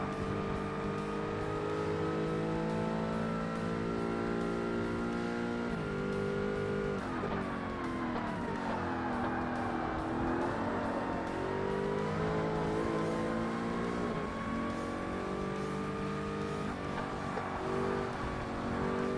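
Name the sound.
Porsche race car engine accelerating in Forza Motorsport video game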